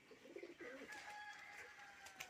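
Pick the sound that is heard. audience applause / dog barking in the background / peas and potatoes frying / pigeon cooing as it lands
pigeon cooing as it lands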